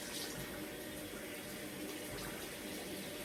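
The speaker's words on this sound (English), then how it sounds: "now I'm going to wash my face and make sure your water is lukewarm" Lukewarm tap water runs steadily into a sink while someone washes their face, a soft, even hiss with no voices.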